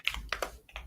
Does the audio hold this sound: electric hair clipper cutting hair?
no